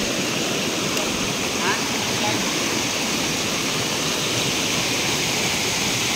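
Loud, steady roar of rushing water, a dense continuous wash of sound with no pauses, close by and filling everything.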